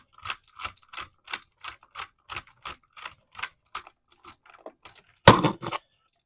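Repeated short metallic ticks and clicks from a screwdriver tightening a screw on a wall outlet, about a dozen evenly spaced close-up taps, ending in a louder scraping burst.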